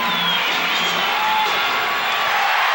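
A packed basketball arena crowd roars with steady cheering and whooping at the tip-off of the 1991 Eastern Conference Finals between the Bulls and Pistons, a dense, continuous wall of noise with faint distant whistles.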